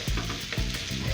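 A spoon stirring egg and onion curry in a pan over the heat, two or three clear scraping strokes over a constant close sizzle.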